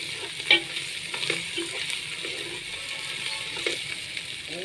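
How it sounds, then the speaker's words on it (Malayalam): Chicken biryani masala with garam masala stirred in sizzles in a pan, with a steady close frying hiss and a series of scraping stirs and clicks from a utensil against the pan. "അപ്പോൾ ഗരം മസാലയും ഇട്ട് നല്ലപോലെ ഇളക്കി"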